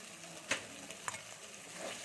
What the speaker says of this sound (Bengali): মশলা থেকে হালকা হালকা তেল ছাড়ছে আমি একটু নেড়ে নিচ্ছি